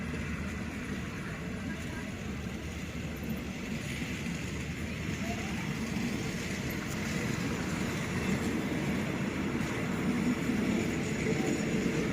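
Rapid train 172 leaves Ratchaburi station in Thailand with a steady, low rolling rumble that swells slightly as it goes, a faint voice audible in the background.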